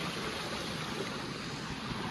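Floodwater rushes steadily through a village drain after heavy rain, a constant broadband wash that stays even and unbroken throughout, with no voices over it.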